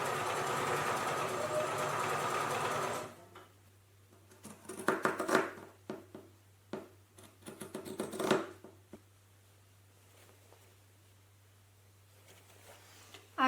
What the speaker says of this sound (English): take it to the sewing machine and sew